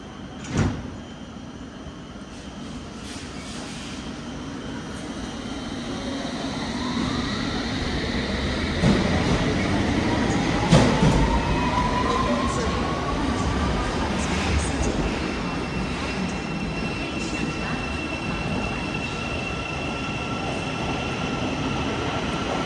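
London Underground Tube train pulling away from a platform on the London Bridge to Paddington route, a steady loud rumble with rising squeals and rail screech, a brief door clunk at the start.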